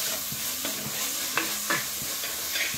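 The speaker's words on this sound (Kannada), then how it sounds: "ಟೊಮೆಟೊ ಹಾಕಿ ಸ್ವಲ್ಪ ಹೊತ್ತು ಫ್ರೈ" Onion and tomato frying together in a pan, a constant sizzling hiss with a few distinct scraping stirs of a spatula spaced out across the span, fairly close and without any talking.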